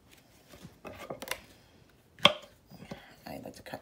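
A knife slicing through meat while snack food is prepared, giving a few soft, close cuts and a single sharp chop among quiet handling noises.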